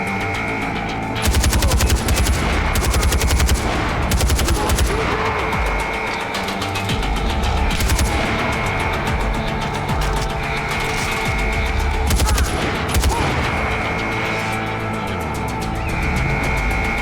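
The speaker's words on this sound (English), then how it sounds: "Two shots." Dense gunfire in the open-world shooter Far Cry 4, set in the Himalayan region of Kyrat: loud, near bursts of automatic fire and single shots crackle almost nonstop over a rumbling battle din, with no talking.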